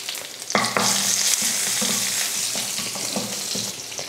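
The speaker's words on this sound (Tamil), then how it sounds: "எண்ணெய் காஞ்சதுமே கொஞ்சம் கடுகு உளுந்து, கடுகு பொரிஞ்சதுமே கொஞ்சம் கருவேப்பிலை, 2 வரமிளகாய், கொஞ்சம் பெருங்காயத்தூள்," Mustard seeds, urad dal and curry leaves fry in hot oil in a kadai, a loud close sizzle that crackles steadily with scattered popping and a few scraping stirs.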